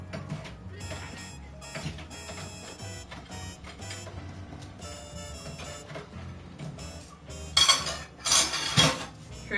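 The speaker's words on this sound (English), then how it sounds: "Hear that? That's dishes." Dishes and cutlery clatter nearby in bursts, with scattered clinks building to louder scraping and rattling clashes toward the end.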